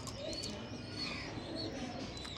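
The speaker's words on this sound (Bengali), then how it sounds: "এটা মাদা পায়রা, নর পায়রা।" Pigeons in a loft, male and female birds kept together, give soft low cooing with faint chirps over a steady close background murmur, no talking.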